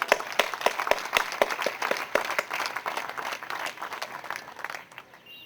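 Audience applause for event organizers at a golden jubilee session at Cadet College Petaro, a dense patter of many hands clapping with a few sharp near claps standing out, steady through the clip and easing slightly toward the end.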